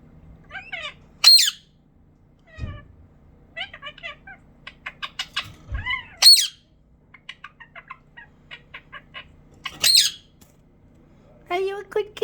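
A pet budgie named Pee Wee chirping and chattering in short bursts with sharp high squawks between quieter warbles, close up, with a person's voice heard at times.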